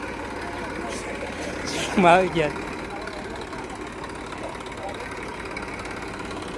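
A tractor engine runs in a steady, low, continuous drone, with a voice briefly speaking over it.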